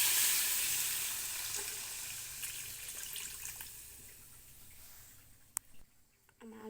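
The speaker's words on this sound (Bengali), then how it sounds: "এখানে পরিমাণ মতো জল দিয়ে দেবো" Water poured into a pan where small hilsa fish are frying, giving a broad hissing rush that gradually fades into quieter sizzling, with a few clinks near the end.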